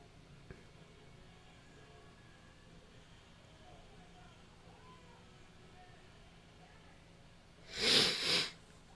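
Near the end a close, loud sniffle breaks a quiet room hum in two quick nasal bursts.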